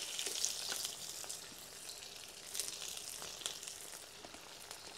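Sliced onion sautéing in oil with cumin, bay leaf, a cinnamon piece and green chilli while cabbage-potato sabzi is cooked, a steady close hiss with occasional crackles and stirring scrapes, no voices.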